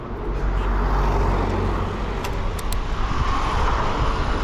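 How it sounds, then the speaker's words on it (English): Street traffic in Turin, Italy, with cars driving past as a constant close rumble of engines and tyres. No voices are heard. "cars are really dangerous here"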